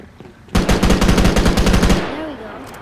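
Rapid automatic gunfire in the mobile game Gangstar New Orleans, a loud burst of about a dozen and a half evenly spaced shots lasting around a second and a half, then fading out.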